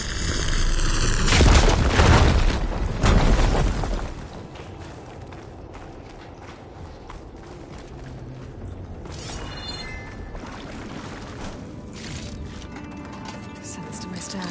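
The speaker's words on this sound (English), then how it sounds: "Should be able to blow up that fire gleam" A fire gleam deposit blown up in Horizon Forbidden West: a loud booming blast with a rumbling roar for a few seconds, fading into quieter ambience with faint game sounds.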